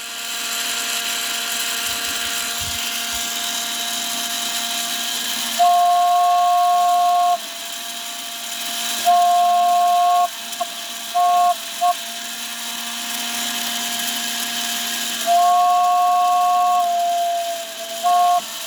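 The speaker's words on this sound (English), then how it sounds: "when I turn the whistle on" An Echo toys steam engine whistle sounds in several sustained shrill blasts over a steady hissing drone, close and loud, with pauses between toots.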